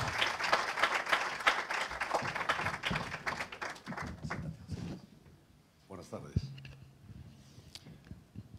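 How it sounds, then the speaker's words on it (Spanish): Loud applause from a crowd at a literary book presentation fills the first half, then thins out into scattered claps and a few knocks as a voice carries on. "Un aplauso, por favor"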